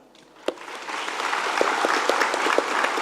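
A large audience applauds at a university commencement ceremony, the clapping starting sparse and swelling within half a second into a dense, steady ovation that fills the hall.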